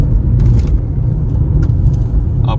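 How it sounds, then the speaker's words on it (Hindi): A Skoda Slavia 1.0 turbo petrol sedan with automatic transmission accelerates, its engine giving a steady low rumble heard from inside the car, with a few faint clicks over the drone. "अब जरा सा आप एक्सीलरेटर मारेंगे, जैसे ये 1000 RPM के आसपास जाता है, इसमें एक टर्बो चार्ज आपको मिलता है"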